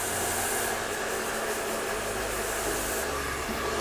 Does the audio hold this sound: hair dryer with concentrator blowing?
yes